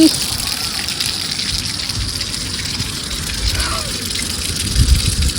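Water pours straight down in a steady, continuous gush, close and fairly loud, with a faint swell near the end and no voices over it.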